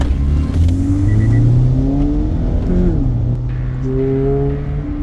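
A Toyota GT86 boxer engine in sport mode revs hard, its pitch climbing and dipping through several sweeps. Loud, close and continuous, with no voices.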